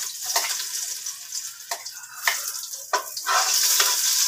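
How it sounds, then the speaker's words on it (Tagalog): Onions sizzle loudly in a hot pan as the start of a beef pinapaitan, with steady frying hiss broken by stirring scrapes and bursts of crackle. "So umpisa natin igisa."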